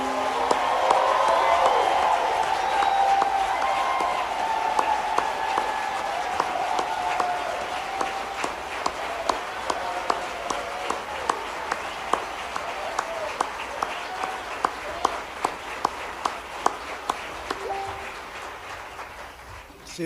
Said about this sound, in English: Would you please stand so that we can congratulate you and applaud?